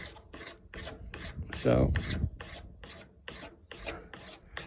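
A razor blade scrapes the front fender of a 1979 Yamaha MX100 two-stroke motorcycle in a steady series of about a dozen short, raspy strokes, close and fairly quiet, with one brief spoken word near the middle.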